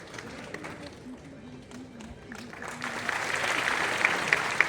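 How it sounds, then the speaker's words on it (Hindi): An audience at a government event starts applauding, the clapping swelling from faint to a fuller crowd sound while a voice speaks over it. "जोरदार तालियां बजाएं।"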